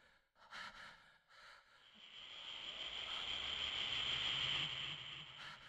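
Voice-acted character breathing from the video game Breath of Fire III, a few short gasps and snorts followed by a long, steady hissing exhale, faint and close with no speech over it.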